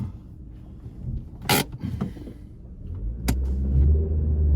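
A Ford Focus 1.6 115 hp stuck on a steep mountain road gives a low, labouring engine rumble that rises and strains toward the end, with sharp scraping bursts and clunks in between.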